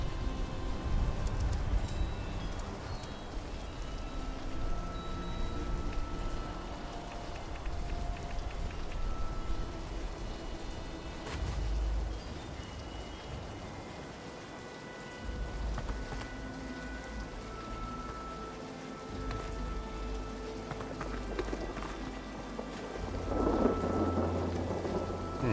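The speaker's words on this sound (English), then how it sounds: "Especially as I'm watching the rain coming down." Steady rain pours with rolling rumbles of thunder in the video game Fallout 76, a dense, continuous storm wash at moderate level with a louder thunder swell near the end, and nobody speaking.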